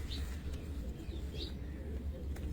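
Pigeons at a home loft in Gorali, Gujrat, with young birds being readied for their flight, make a few faint, short calls and chirps over a low, steady background rumble.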